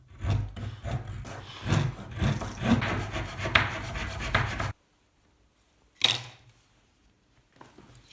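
Hand sawing lengthwise through a small piece of plywood to split it into thin sheets, a steady rasping back-and-forth rhythm, close and fairly loud, then a pause and a brief scrape.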